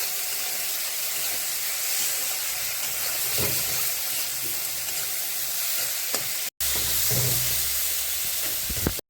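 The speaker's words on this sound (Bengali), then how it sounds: "এখন এটা ভালো করে ভেজে নেব।" Mushrooms seasoned with salt, turmeric and chilli powder fry in a pan for a Bengali mushroom paneer dish, giving a steady close sizzle broken by occasional stirring scrapes and one short dropout.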